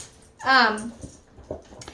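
An excited, hyper dog being trained gives a short, high whimpering whine near the start, followed by softer snuffles and small yips close by in a quiet indoor setting.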